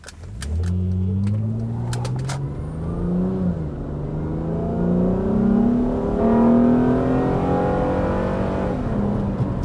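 An early-2000s Acura with a J-series engine and manual transmission revs through several rising and falling pulls, a smooth climbing engine note heard from inside the car with no talking.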